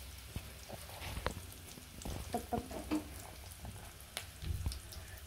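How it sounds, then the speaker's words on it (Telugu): Curry leaves dropped into hot oil for tomato chutney, giving a quiet, crackling sizzle with scattered sharp pops and a few louder spits near the end, with no talking. "ఇదిగోండి కరివేపాకు వేసేసేయాలి"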